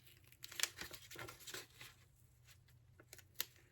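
A foam sticker is peeled off its backing on a snowflake trinket tray craft, making faint, close tearing and crinkling bursts separated by quiet pauses.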